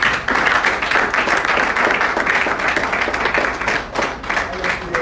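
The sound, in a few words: audience applause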